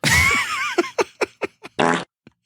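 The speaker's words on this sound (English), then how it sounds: "Slim, hit the fart noise, please." A cartoonish fart sound effect: a long wobbling squeal followed by a series of short sputtering bursts and one final tiny pop, loud and isolated.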